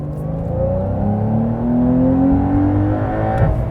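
A 2023 Porsche 911 Carrera T with reduced sound deadening revs its engine, a loud, close, steady growl whose pitch rises and holds, then dips slightly near the end.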